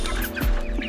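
Brahma and Americana-cross chickens cluck briefly on a homestead, a couple of close, sharp clucks standing alone without voices.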